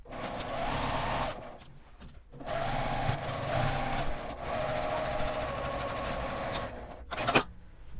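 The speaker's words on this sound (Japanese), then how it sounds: "この返し口を開けてぐるりと1センチの縫い代で縫います" A sewing machine runs steadily, stitching a cosmetic pouch's lining with a 1 cm seam allowance, in long continuous bursts with brief pauses between them.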